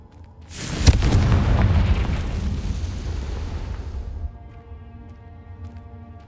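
A Confringo spell explodes in Hogwarts Legacy with a sudden loud, close boom, followed by a long rumbling blast that fades out over about four seconds, with no voices.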